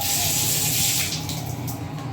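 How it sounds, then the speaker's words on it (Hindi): Water sprays from the inside onto an air conditioner's filter during cleaning, a loud continuous hiss that eases slightly toward the end. "अंदर की ओर से ही पानी मारना है"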